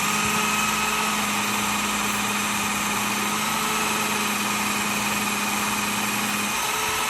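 A Work Sharp powered sharpener runs steadily while stropping a gutting blade with compound, giving a continuous close motor whine and hum with a faint buzzing vibration, unbroken for several seconds before easing slightly at the end.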